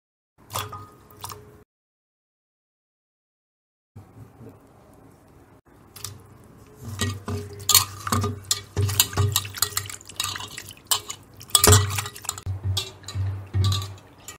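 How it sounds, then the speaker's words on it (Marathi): Peeled chicken feet washed by hand in water, with wet squishing, dripping and light clinks against a vessel arriving in irregular bursts after a short silent gap, growing busier toward the end. "आता आपण ते चांगले स्वच्छ धुवून घेऊ।"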